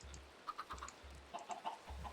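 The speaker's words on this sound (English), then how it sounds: "I think I'm gonna need to download a data pack to quiet the chickens" Chickens cluck in the video game Minecraft: a series of short, fairly quiet clucks in an uneven rhythm, with low, blocky game tones pulsing underneath.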